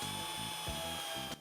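A power drill bores a hole into plastic irrigation pipe at slow speed, its motor whine steady and close for about a second and a half with a grinding, ratcheting texture before cutting off abruptly.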